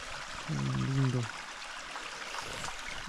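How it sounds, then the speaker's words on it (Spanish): Water trickles from a spring in a stone in a high mountain forest, a faint, steady babble heard throughout while a person briefly speaks over it. "Esa piedra es la que tiene el nacimiento de agua."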